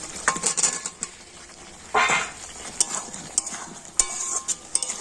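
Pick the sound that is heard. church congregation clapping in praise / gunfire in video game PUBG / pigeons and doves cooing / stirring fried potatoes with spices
stirring fried potatoes with spices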